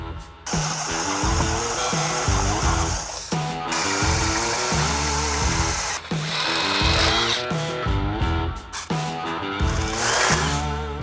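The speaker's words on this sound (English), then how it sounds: "I'm gonna use a unibit to kind of get going and get it opened up" A power drill whines and grinds as a step bit cuts into a Subaru Forester's metal, running in several loud bursts with brief pauses between them.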